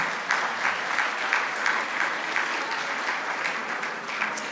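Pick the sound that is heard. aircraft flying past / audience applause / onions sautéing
audience applause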